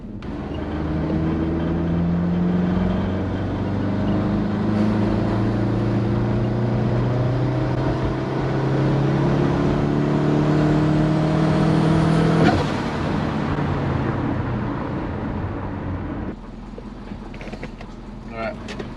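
A big-turbo Subaru with an external wastegate pulls hard through the gears, engine note climbing in long rising sweeps, then cutting off abruptly with a sharp release and fading to a rattly idle.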